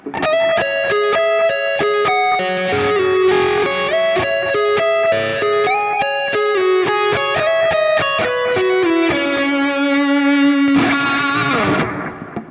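A high-gain electric guitar played through a Fractal amp modeler plays a smooth, sustained lead melody drenched in delay and reverb, notes ringing and trailing into each other, ending on a long held tone.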